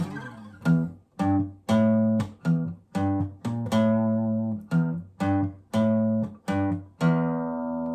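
A guitar plays a chunky riff in short, punchy chords in a stop-start rhythm, each stab ringing briefly before cutting off, clear and close.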